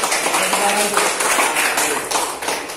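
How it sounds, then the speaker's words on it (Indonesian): A class of students claps their hands together in a classroom during a lesson, a brisk rhythmic patter with a voice faintly present underneath. "Kita tepuk tangan dulu"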